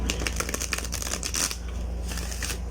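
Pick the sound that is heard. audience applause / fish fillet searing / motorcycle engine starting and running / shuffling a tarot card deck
shuffling a tarot card deck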